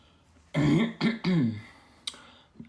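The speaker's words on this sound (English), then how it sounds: "I don't know why I clear my throat a lot." Someone clears their throat close by in three quick rough bursts, followed by a faint click and a soft trailing noise in an otherwise quiet room.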